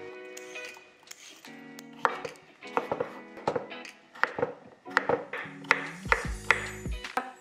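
Half a cucumber being chopped on a board, a run of crisp knife taps in an uneven rhythm, close up, with faint ringing pings between cuts.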